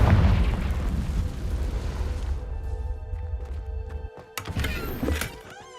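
A Confringo spell blast in Hogwarts Legacy: a loud, deep explosive boom that rumbles and decays, followed by lighter crackling debris and a couple of sharp pops.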